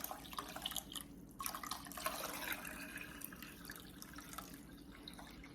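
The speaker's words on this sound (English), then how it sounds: "we're gonna add some more water to the beans" Water pours and drips into a pot of Great Northern beans for a soul food stew, a steady splashing trickle close by with a few louder gushes.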